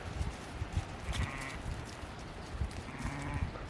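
Sheep bleating on a farm where three new animals are huddled together, with faint, short calls rising a few times over steady rustling and ambient background noise.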